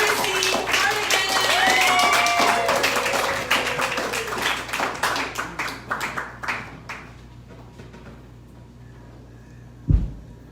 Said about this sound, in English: Please start clapping.